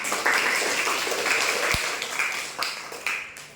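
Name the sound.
classroom applause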